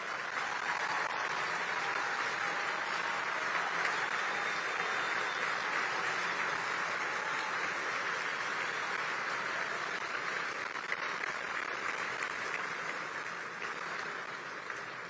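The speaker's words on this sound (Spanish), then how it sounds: "demos un caluroso aplauso reconociendo su trabajo tras estos" Sustained applause from a seated audience at a forum held in a university hall in Mexico, a dense, even wash of clapping lasting about fifteen seconds at moderate distance, with no voices over it.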